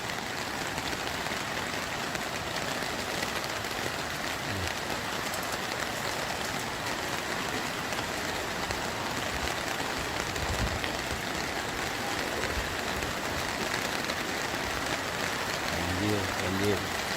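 Heavy rain pours down during a flood in the town of Lahat, a dense, steady hiss of falling water that stays loud and continuous throughout, with a few faint thumps and a low rumble underneath.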